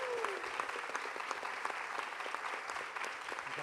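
A standing theatre audience at a literary festival gives steady, dense applause that holds at an even level throughout, heard from some distance in the hall.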